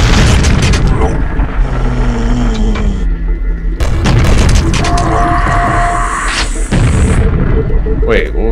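Loud booming rocket explosions burst in Quake Remastered co-op play, with deep blasts and crackling debris over a steady game soundscape.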